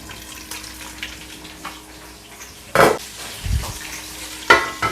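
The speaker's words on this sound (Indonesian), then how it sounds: "Ini ikan itu dialup-alupi, terus aku goreng." Milkfish fries in hot oil, sizzling and crackling steadily with a few louder bursts of spattering as pieces shift in the pan, close by with no voices.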